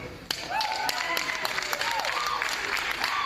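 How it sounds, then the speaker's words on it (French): Applause fills a hall right after a speech by the founder of Sinam, dense and steady for a few seconds, with voices and cheers carrying over the clapping. "Allocution chaleureusement donc applaudie dans la salle."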